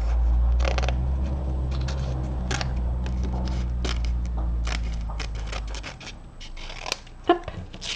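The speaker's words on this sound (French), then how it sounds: "Je commence par découper tout le tour" Scissors snipping all the way around a sheet of foliage-patterned paper, a long run of quick, close, crisp cuts over a low steady hum, with a louder snap near the end.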